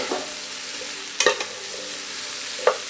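Squash flesh and onions sizzling in olive oil and butter in a pan, with a steady hiss throughout and a few sharp clinks from stirring, heard alone at moderate level.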